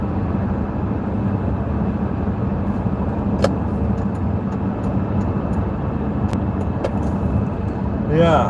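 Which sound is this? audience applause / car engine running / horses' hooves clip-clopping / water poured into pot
car engine running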